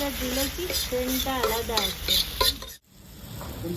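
Bay leaf frying in a pan for a potato and pea curry, a close sizzle with repeated scraping stirs and clinks, a voice talking over it, then a sudden brief drop before the sizzle returns.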